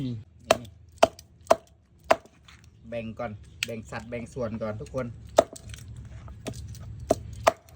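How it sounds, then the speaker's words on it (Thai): A knife chops chicken sharply on a board in steady, evenly spaced thwacks, close by, while someone speaks over the middle stretch. "เรามาสับไก่กันครับทุกคน"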